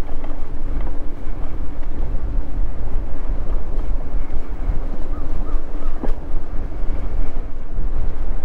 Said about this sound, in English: the wind is blowing out of the north at 20 miles an hour